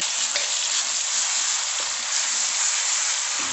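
Vietnamese stir-fry seasoning sizzles in a hot pan with steady, loud, continuous frying hiss and faint stirring throughout, no voices.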